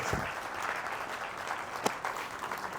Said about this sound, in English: Give Lori a huge round of applause